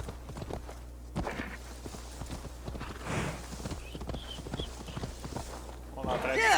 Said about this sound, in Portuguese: agora o cavalinho corre